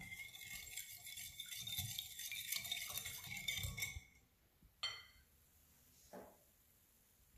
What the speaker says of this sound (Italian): E lavoriamo con la frusta.